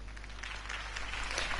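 Brief crowd applause after a campaign speech for Harvey Dent in a Batman video game, a dense, even wash of clapping that swells slightly over a constant low hum.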